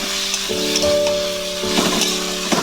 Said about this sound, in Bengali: ভাজা ভাজা হয়ে গেছে একদম